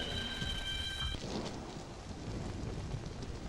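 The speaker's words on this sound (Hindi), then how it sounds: "राघव, इतनी बारिश में छाता क्यों नहीं लाए?" Steady rain pours in a dramatic Hindi-dubbed movie scene, a dense continuous hiss with rumbling low texture throughout, loud and close, with a faint tonal ring early on and no speech.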